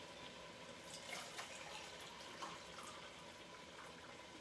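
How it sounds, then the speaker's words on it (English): Water is poured into empty tomato sauce cans, a faint, steady trickle and splash with light metallic resonance, heard alone without talk. "I'm going to pour the water into these to get the rest of the tomato sauce that's in the can"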